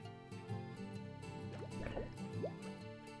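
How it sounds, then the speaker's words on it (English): Bubbles blown by a red herring fish in a video game gurgle and drip in small irregular pops over a soft background music bed, quiet and close. "I can just make out a red herring down there, blowing bubbles with a smoking pipe"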